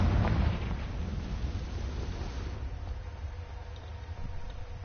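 A Confringo blasting spell explodes in the Hogwarts Legacy video game, a deep rumbling boom that hits hardest at the start and then settles into a sustained low roar with scattered crackles.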